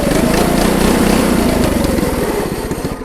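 Predator 212 engine on a stage 2 modified minibike with a muffler on the header pipe, revved loud and close with a steady buzzing drone that eases off toward the end.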